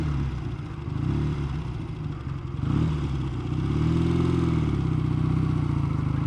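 A classic motorcycle runs close by, its engine rumbling steadily with a brief rise in revs partway through, loud and alone without voices.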